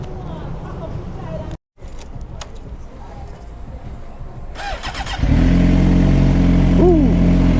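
A Suzuki GSXR motorcycle engine at night swells into a loud, steady close-range drone after a few seconds, with a short revving rise near the end; earlier there is fainter traffic-like rumble and a brief dropout.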